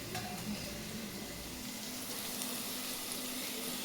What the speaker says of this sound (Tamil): இங்கே ஆனியன் இன்னும் கொஞ்சம் ஃப்ரை ஆகணும்